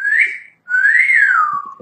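A woman's wolf whistle, a short rising note followed after a brief gap by a longer note that swoops up and falls away, clear and close.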